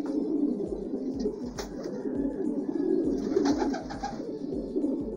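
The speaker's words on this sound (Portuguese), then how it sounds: "Mostrando a pombada em geral hoje aí, ó, pra galera aí" A flock of pigeons gathered on the ground and perches coos together, soft low throaty calls repeating in a steady pulsing rhythm over a constant murmur of nearby birds.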